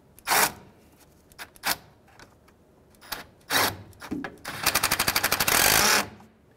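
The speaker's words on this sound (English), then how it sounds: "Because that's an odd angle, I had a ratchet nearby just to make sure we're tight." Ratchet wrench tightening the nut on a car battery terminal during work on a 2003-2011 Honda Element, with a few separate clicks followed by a fast, loud burst of rapid ratcheting, close by.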